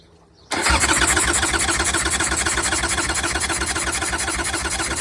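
A Harley-Davidson motorcycle engine with the throttle opened cranks and catches after a short quiet moment, then runs loud and close with a rapid, even pulsing beat.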